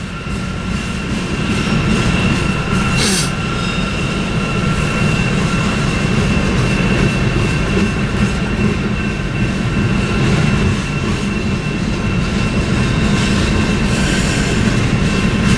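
A manifest freight train led by Norfolk Southern locomotives rolls past on Tehachapi, a steady loud roar of wheels and cars filling the whole stretch, with faint wheel squeal and no one talking.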